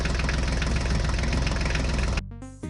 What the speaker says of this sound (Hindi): ये देखो बच्चों, हमारे मिनी ट्रैक्टर बहुत कोशिश कर रहे हैं इस रास्ते को पार करने की।